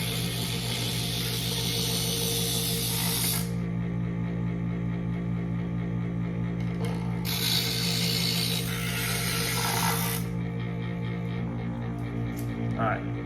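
A motorized electric knife sharpener whirs steadily while a pair of scissors is drawn through its scissor slot, producing two long bursts of bright grinding scrape over the constant motor hum.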